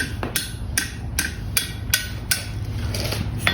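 A blacksmith hammers the handle of a Huntley spoon for gold mining over the anvil horn in a forge shop, about a dozen sharp ringing metal strikes in a steady rhythm, close and clear with no talking.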